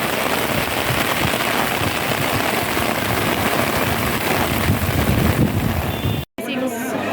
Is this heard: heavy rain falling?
yes